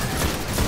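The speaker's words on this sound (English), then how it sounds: "The big ones are already shooting me again" Enemy gunfire in the video game Destiny, a dense burst of rapid shots packed into under a second, loud and close without any talking.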